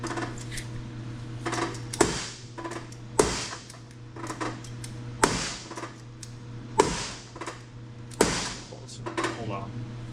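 Heavy hammer blows ring out on a sandrail under construction, landing as sharp metallic strikes spaced about a second or two apart, close and loud over a steady low hum.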